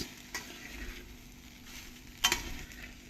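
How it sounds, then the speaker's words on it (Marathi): Sabudana khichadi with potato and cumin fries in a pan over a very low flame, giving a faint, soft sizzle with a couple of brief stirring scrapes; nobody talks. "आता आपण याला मिक्स करून घेऊया हे सगळं माझं एकदम मंद आचेवर सीमवरती आहे"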